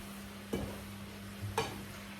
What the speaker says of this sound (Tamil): இந்த இறால் தூள் எல்லாத்தையும் நன்றாக சேர்ப்போம்